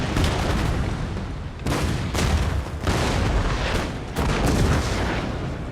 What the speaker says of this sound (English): Oh, I think that's an artillery unit.